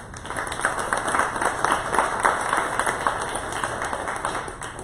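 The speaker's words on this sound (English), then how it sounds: "Let's give them a round of applause." An audience gives a round of applause at a local entrepreneurs' gathering, with steady, moderately loud clapping from many hands sustained throughout.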